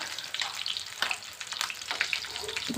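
Fish roe fries in hot oil with a dense, continuous crackling sizzle and scattered sharp spits and pops, close and fairly loud throughout.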